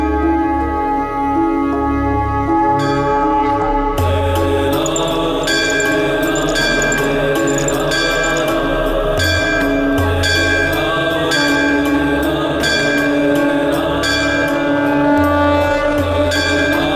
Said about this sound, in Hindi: इतनी तेज ध्वनि में घंटी बजा रहा है